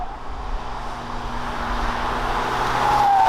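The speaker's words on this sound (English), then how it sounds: "Right now we're driving on the highway with Hyundai Palisade." A Hyundai Palisade cruises on the highway, a steady low road and engine rumble with tyre and wind noise heard from inside, gradually growing a little louder.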